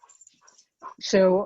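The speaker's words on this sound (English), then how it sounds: "you can hear a buddy barking in the background" A dog barks and whimpers briefly indoors as someone passes by the house, a short loud burst at the end following quieter sounds, with a person speaking.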